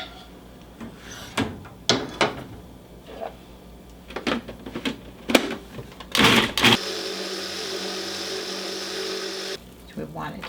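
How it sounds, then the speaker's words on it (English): A food processor whirs steadily for about three seconds as it blends cooked liver pâté ingredients, preceded by a series of sharp clatters and knocks from setting up the machine, with bits of talk mixed in. "put everything in a food processor"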